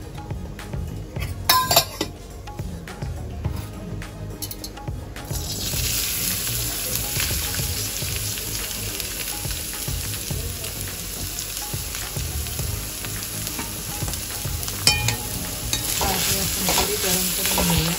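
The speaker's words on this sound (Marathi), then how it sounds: "आता आपण कारले थोडी फ्राय करणार आहोत." Bitter gourd (karela) fries in a few spoons of oil. Light clinks and scrapes of a spoon come first, then a loud, dense sizzle rises and holds steady under occasional stirring knocks.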